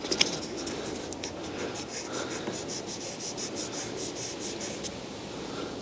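A car bumper's painted surface being hand-sanded with 2000 grit sandpaper, a soft, steady scratchy rubbing in repeated strokes, close and fairly quiet.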